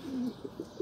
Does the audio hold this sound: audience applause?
no